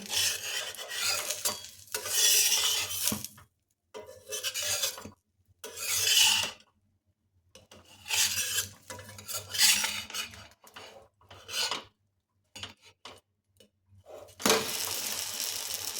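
A spatula scrapes and turns a rice-flour pancake in an oiled pan, giving intermittent scraping and clinking bursts with short pauses between them, close and moderately loud, with no talking.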